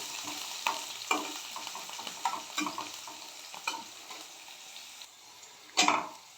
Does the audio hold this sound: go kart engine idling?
no